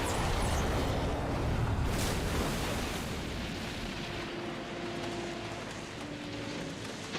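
A large explosion from a movie's climax, a loud broadband blast that rumbles at first and then decays into a long, diminishing roar with faint musical tones underneath.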